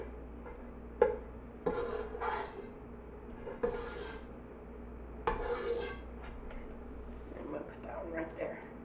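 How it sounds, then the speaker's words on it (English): A utensil scrapes across a nonstick pan while cooking, with a few sharp scrapes and clinks spaced a second or two apart, quiet and close, under occasional speech. "Try not to scrape your nonstick pan too much."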